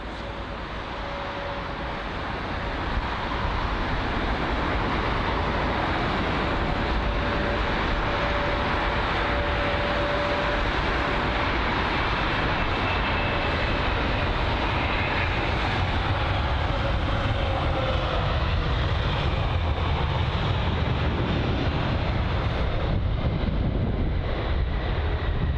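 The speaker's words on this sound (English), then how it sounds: "So there you have it, the Virgin Atlantic 787." Engines of a Virgin Atlantic Boeing 787 airliner at London Heathrow give a loud, sustained jet roar. A broad rushing drone holds steady for the whole stretch with no talking.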